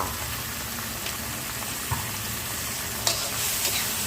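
Crispy fried pork and kale being stir-fried in a pan, a steady close sizzle with occasional scraping stirs and clinks, no voices.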